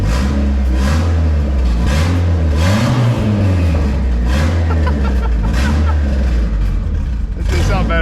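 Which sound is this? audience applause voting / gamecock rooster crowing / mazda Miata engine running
mazda Miata engine running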